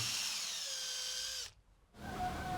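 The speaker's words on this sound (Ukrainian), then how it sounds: "Свердлимо три отвора повздовж." A power drill whines at high speed while drilling holes in a homemade pike-lure blade, its pitch sagging as it bites, then briefly cuts out before spinning up again.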